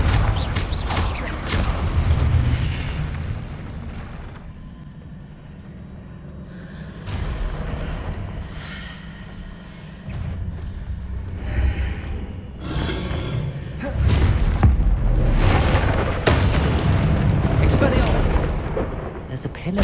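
Confringo blasting spell explosions in Hogwarts Legacy, several heavy booming blasts and rumbling impacts in bursts, loud and close, with crackling debris between them.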